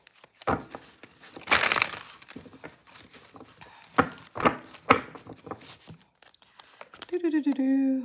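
Tarot cards being shuffled by hand in a series of dry crackling riffles and slaps with pauses between them, close up, ending with a brief voice.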